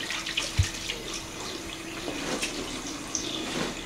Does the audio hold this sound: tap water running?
yes